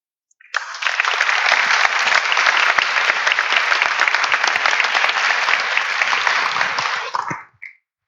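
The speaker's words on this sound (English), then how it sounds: "A warm applause" An audience at a ministry event on the Arctic bursts into warm applause for the environment minister, a dense, loud wash of clapping that rises sharply, holds steady for about seven seconds, then fades out quickly.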